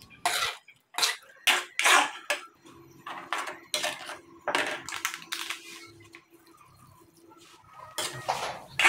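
Caramel-coated pili nuts with sesame seeds are stirred in a pan, giving a run of close, sharp scraping and clinking bursts in an uneven rhythm with short quiet gaps between them.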